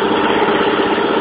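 A Yardman lawn mower engine idles on a cold start with its carburetor needing adjustment, producing a steady, loud, even drone close up.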